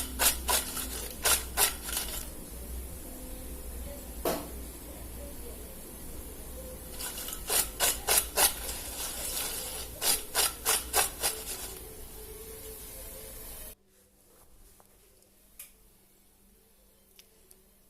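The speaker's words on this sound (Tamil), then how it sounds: "நம்ம லேசாக அப்படி குலுக்கி விட்டோம்னா அது எல்லா இடத்துலையும் அது பட்டுடும்." Fried potato chips shaken in a container to coat them with seasoning powder, two stretches of dry rustling rattle with quick tapping knocks, fairly close and moderate, then a quiet pause near the end.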